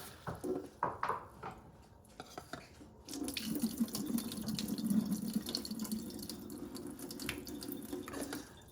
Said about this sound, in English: It's just a matter of doing a little bit of rinsing